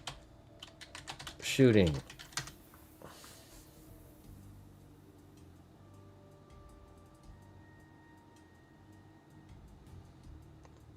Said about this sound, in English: let's just type it in here